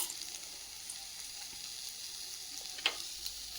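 Ingredients sauté in a pan for poori masala, a steady soft sizzle running throughout with one brief sharper crackle near the end, no voices.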